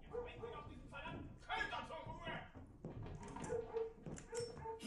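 A dog whimpers and gives short yelping barks in bursts, mixed closely with people talking over it at similar loudness.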